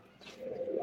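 Female pigeons cooing softly from close by in a pigeon market, a low, murmuring coo that swells and then carries on under quiet background noise.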